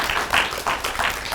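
Audience at a Black radical politics talk gives a hand clap, a short burst of crowd applause swelling in several uneven waves, moderately loud and steady with no clear speech over it.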